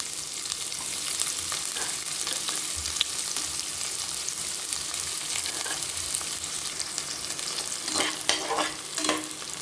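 Half a large onion sizzles in oil with fennel seeds for a mutton gravy, a steady close hiss with a spoon repeatedly scraping and knocking against the pan.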